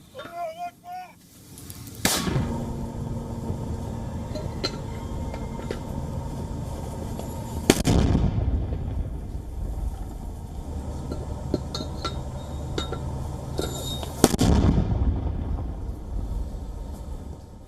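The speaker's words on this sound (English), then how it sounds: "it shows its fighters allegedly firing mortars in Gaza as the fire rages on" Mortars fired in Gaza, three sharp booming launches spaced several seconds apart, each a loud thud with a ringing tail, over background rumble; a brief voice is heard at the very start.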